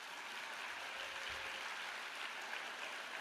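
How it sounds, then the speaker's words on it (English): Audience in a hall at a national concert festival opening session gives faint, steady applause, a soft continuous patter of clapping heard from a distance. "you should applaud yourself for being in this room today"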